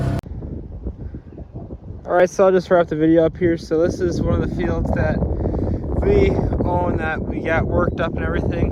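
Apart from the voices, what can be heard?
wind noise on microphone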